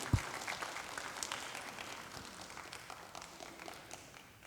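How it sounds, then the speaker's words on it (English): An audience at a ninth-grade school orientation claps for a speaker, a soft burst of scattered hands that is strongest at the start and gradually thins out and fades. "I'm going to say we can give Mr. May a clap."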